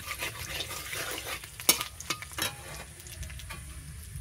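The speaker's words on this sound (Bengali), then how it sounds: "এটাকে হালকা একটু নেড়ে চেড়ে" Bay leaf, cardamom and cinnamon sizzle softly in hot oil while a spoon stirs them, with a few sharp metallic taps against the pan and quiet scraping in an otherwise still kitchen.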